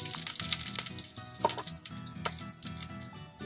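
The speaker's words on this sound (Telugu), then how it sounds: "పలావ్ కోసమండి తామర గింజలను కొద్దిగా నెయ్యి వేసి వేయించుకుందామండి." Lotus seeds (makhana) roast in ghee in a pan, giving a steady bright sizzle with scattered rattling pops as the seeds shift, and a low background hum running beneath.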